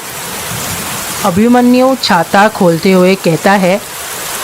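A steady, hissing rain sound effect in a Hindi audio story runs under a voice, which speaks loudly over the continuous downpour.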